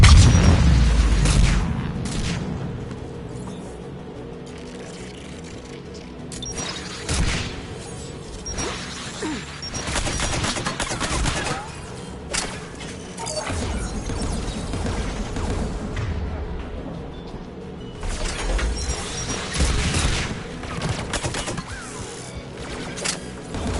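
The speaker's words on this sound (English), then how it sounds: "the anti-aircraft guns." Anti-aircraft guns fire in the video game Mass Effect Legendary Edition: heavy booming blasts and whooshing bursts rumble repeatedly over a steady din, each shot punching out loudly.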